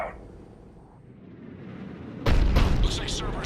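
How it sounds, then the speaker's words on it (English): A Cerberus cannon fires in Mass Effect 3, a sudden loud boom after a quiet rumbling lead-in, followed by sustained roaring blast noise and sharp high crackles. "Looks like Cerberus got that cannon operational, Commander."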